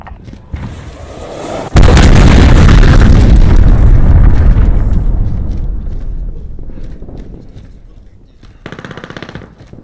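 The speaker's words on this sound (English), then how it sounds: "Enemy cruise missile, take cover" A cruise missile explosion in the Modern Warfare game, a sudden massive blast that hits hard and then rolls into a long, slowly fading roar, with scattered gunfire before it and a short burst of shots near the end.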